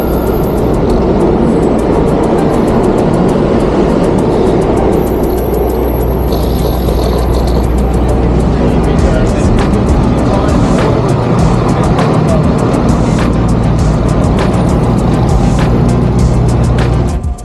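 Heavy Midtown New York street traffic heard from a Brompton folding bike: a loud, continuous roar of cars and buses with engine rumble and passing vehicles, steady throughout.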